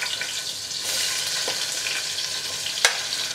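Fennel seeds splutter in hot oil in a pan, a dense close frying hiss with small crackles and one sharp pop near the end, and no voices.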